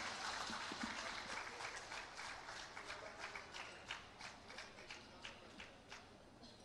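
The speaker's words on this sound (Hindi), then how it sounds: "मैं चाहूंगी एक बार जोरदार तालियों के" Crowd applause at an outdoor government public-service event in Chaibasa welcoming a speaker, heard faint and distant as a steady patter of many hands with a few sharper claps standing out.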